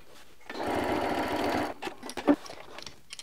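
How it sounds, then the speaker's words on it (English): A sewing machine stitches a scrappy quilt-as-you-go block through batting, a quick, even run of about a second close by, then stops, followed by a few soft clicks and handling sounds. "I'm sewing from the reference line out now"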